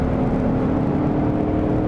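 A Dodge Charger Hellcat accelerates hard in a straight line on the Yas Marina circuit, giving a loud, steady engine roar and whir heard close up without a break.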